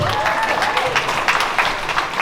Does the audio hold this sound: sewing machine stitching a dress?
no